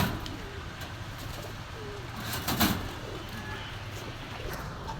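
Pigeons cooing at a market for high-flying pigeons, soft repeated coos and occasional chirps close by over a steady outdoor hum with faint traffic.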